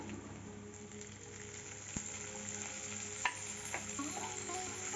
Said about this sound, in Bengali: টমেটোটা দিয়ে একটু ভালো করে ভেজে নিচ্ছি